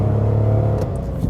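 Small engine of a 2017 Mitsubishi Space Star with a CVT in S mode, droning steadily at raised revs from inside the car, loud and close.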